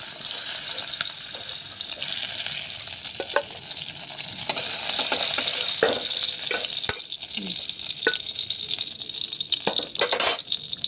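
Pieces of kalna fish fry in oil in a pan, a continuous crackling sizzle punctuated by clinks and scrapes of a spatula against the metal.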